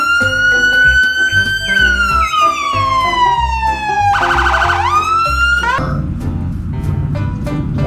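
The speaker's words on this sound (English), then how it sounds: "White color police car." A white toy police car sounds its electronic siren, a loud wailing tone that sweeps up and down, with a busier burst of other toy noise near the end.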